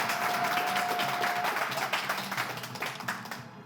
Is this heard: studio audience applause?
yes